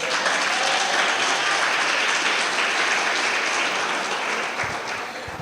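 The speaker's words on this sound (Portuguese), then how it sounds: "Aleluia, você pode aplaudir ao Senhor." A church congregation applauds during a worship service, steady dense clapping that stays loud throughout and tapers slightly at the end.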